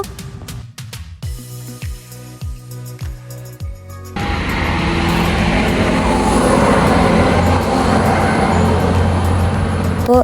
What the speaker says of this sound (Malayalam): ഇപ്പൊ ട്രെയിൻ വരൂട്ടാ നോക്കിക്കോ